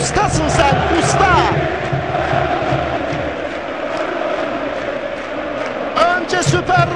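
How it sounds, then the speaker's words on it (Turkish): Galatasaray fans roaring and chanting in a packed football stadium after a goal, a dense continuous crowd chant with a commentator talking over it. "Şimdi I love you Hacı diyor Galatasaray taraftarı."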